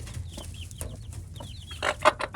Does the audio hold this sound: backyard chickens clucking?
yes